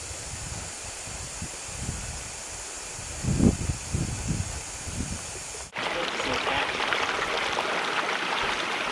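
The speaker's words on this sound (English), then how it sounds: "And now crossing Cottonwood Creek." Creek water rushes and trickles as hikers cross Cottonwood Creek on the Mount Whitney trail, with soft footstep and rustling bursts midway, then a louder steady flowing wash after an abrupt cut.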